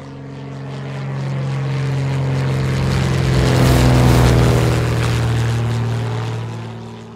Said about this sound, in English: Let's get on the plane. It's going to be a quick ride.